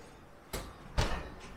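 An oven door is shut with two soft, quick knocks about half a second apart, set against a quiet kitchen with no one talking.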